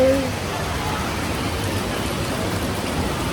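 Steady rain falling in foggy Mumbai weather, a dense even hiss of drops on surfaces, loud and continuous throughout.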